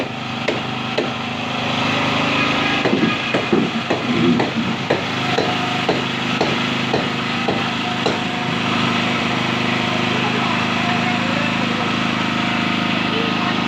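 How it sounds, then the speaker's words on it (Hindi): Nails are hammered into wood at a campsite setup in a burst of sharp, close knocks, irregular then steady, over the constant drone of a running generator. "यहाँ कीले ठोक रहे हैं"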